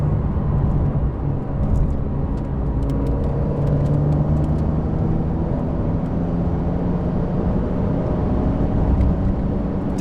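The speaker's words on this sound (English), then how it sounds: "I have put the car into Sport Plus mode, so you do hear the exhaust a little bit more" A 2020 Porsche 911 Carrera S (992) in Sport Plus mode drones from the cabin at a steady, loud engine and exhaust pitch with constant road roar, no voices over it.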